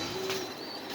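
At a pigeon farm in Mirpur 13 that keeps racing pigeons, one short, low coo rises over a constant background hiss.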